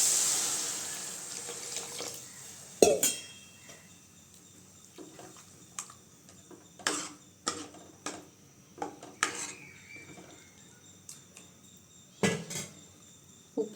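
Water poured into a pan of tomato and spice curry for a manathakkali kai kulambu, with clinks of a utensil against the pan and scattered clatters over a faint running-water hiss.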